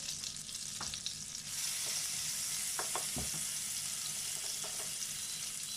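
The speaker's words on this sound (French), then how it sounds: "Faites torréfier 1 minute, puis ajoutez le gingembre, l'ail et l'oignon." Spices sizzle in a pan as ginger, garlic and onion are added, a steady close frying hiss that swells louder partway through, with a few scattered clinks and scraping stirs.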